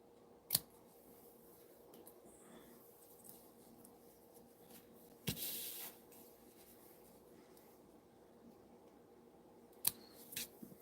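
Scissors snip craft pieces in a quiet studio, giving three short, crisp cuts spaced several seconds apart over faint rustling.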